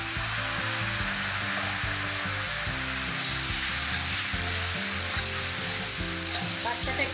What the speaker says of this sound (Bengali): পাস্তাটা একটু কষিয়ে নেব